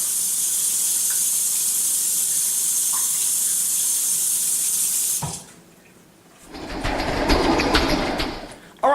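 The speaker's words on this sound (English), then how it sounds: "let me wash my hands" Hands being washed under a running kitchen tap, a steady loud rush of water for about five seconds, a brief pause, then the flow splashing again more heavily; no talking.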